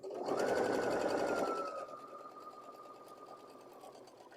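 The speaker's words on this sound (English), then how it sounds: "And now I'm just going to sew right off the block" A sewing machine runs steadily while stitching a flying geese quilt block, a close, even mechanical hum and needle rattle that is loudest at the start and then eases off slightly, without talking.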